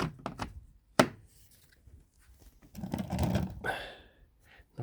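Chisels and hand tools knock and clatter as they are packed away, with sharp close wooden-metal clunks, one loud thump, then a longer rattling shuffle of tools being set into place.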